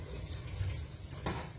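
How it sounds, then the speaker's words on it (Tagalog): Running tap water pours steadily over fresh moringa leaves being washed in a kitchen sink while tinola fish soup is prepared, a soft continuous splashing with a slightly louder burst near the end. "hugasan na natin yung malunggay"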